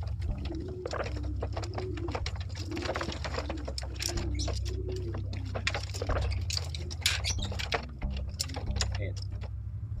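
Racing pigeons coo in their loft, soft repeated throaty calls rolling one after another under a steady low hum, with other birds chirping faintly nearby.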